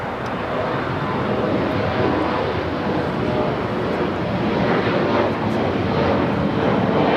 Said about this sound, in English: Next takeoff is an E-Jet heading to Omaha, Nebraska